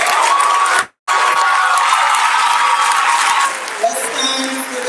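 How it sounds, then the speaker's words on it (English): A commencement audience at a high school graduation bursts into sustained, loud applause with crowd noise and some cheering, broken by a brief gap before the clapping swells on and gradually thins. "Let's give them a round of applause."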